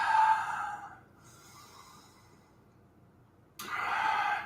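Deep breathing during a yoga session: a slow, airy exhale, a quiet pause, then another long breath, heard close and fairly soft.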